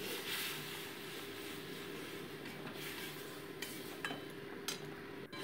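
Spice paste with nigella seeds frying in oil in a pan, a soft steady sizzle broken by scrapes and clinks as a spoon stirs, close and fairly quiet, with no talk.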